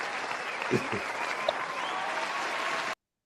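Crowd applause sound effect played in during an interview, a steady dense wash of clapping at even loudness throughout that cuts off abruptly, with a brief voice near the start.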